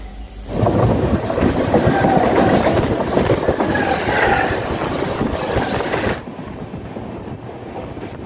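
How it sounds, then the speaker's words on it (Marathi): Palace Queen Humsafar train running on rails after leaving Pune, a loud rushing rumble with rhythmic clickety-clack of wheels and wind noise, heard from aboard, easing off near the end. "पुण्यावरचा 10 मिनिटाचा वेळ घेऊन आमची ही ट्रेन सुटलेली आहे"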